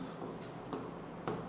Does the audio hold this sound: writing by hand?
yes